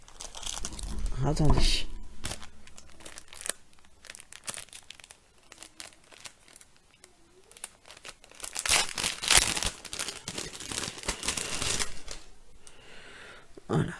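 Wrapping paper crinkles and tears as a bouquet of flowers received as a gift is unwrapped, close and loud in bursts with quieter pauses between; someone speaks briefly.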